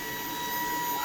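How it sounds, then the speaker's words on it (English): A household vacuum cleaner runs steadily indoors as a small child helps, a constant whining hum with a high tone throughout, no pauses. "Are you helping Mama vacuum?"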